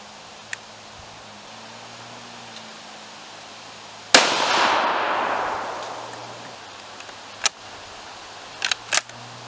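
A 6.5 Creedmoor rifle fires a single sharp shot partway through and the report decays slowly into the distance. A few faint clicks and light knocks come later against a quiet outdoor background, and nobody speaks.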